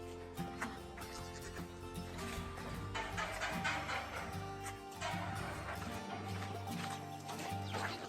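Goats bleat repeatedly over a busy farmyard background, their wavering cries overlapping at close to moderate distance throughout.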